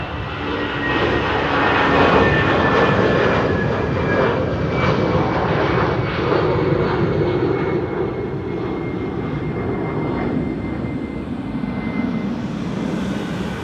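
An ITA Airways jet airliner, flight 121 to Milan, starts moving at Amsterdam Schiphol: a broad, steady jet engine roar with a faint whine on top, holding loud and even throughout with no voices.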